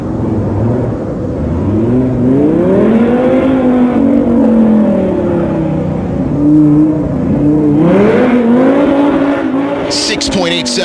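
A car accelerates hard through a slalom course, its engine loud and close with steady revving that rises and falls as it shifts and turns, plus a brief tire squeal near the end.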